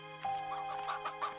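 A chicken in Slime Rancher 2 gives a short run of clear, close clucks in a quick rhythm, lasting just over a second with no talking.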